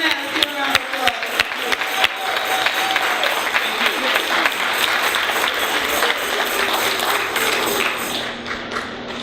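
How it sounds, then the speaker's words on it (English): Loud, sustained audience applause in a church welcoming speaker D. Clark, full crowd clapping with sharp individual claps and some voices mixed in, gradually thinning near the end. "Let's give a round of applause."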